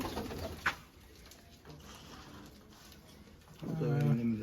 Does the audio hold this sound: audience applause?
no